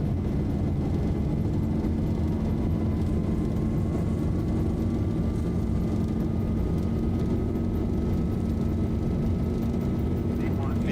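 Engines of an airliner on its takeoff roll for a Spokane to Portland charter flight, producing a steady, loud, broadband roar with a slowly rising whine, heard from inside the aircraft without interruption.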